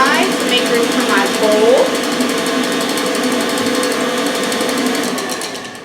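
Continuous whirring drone of a stand mixer with a whisk attachment whipping macaron batter, steady and close, fading slightly at the end as it winds down.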